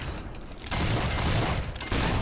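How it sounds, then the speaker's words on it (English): Mortar round explosions in the Fable 3 video game, dense rumbling blasts that swell in two loud bursts after a quieter opening, with no talk over them. "those explosions will actually come after you, because that is a mortar round"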